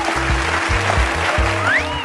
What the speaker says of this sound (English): Let's give our screen a big round of applause